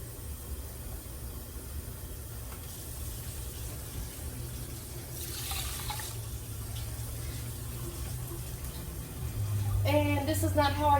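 Water runs into a pot of rice on a high burner, two cups of rice to four of water, as a steady rushing hiss that swells midway; a voice speaks near the end.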